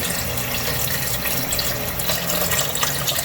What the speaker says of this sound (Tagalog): Pwede na tayong maglagay ng tubig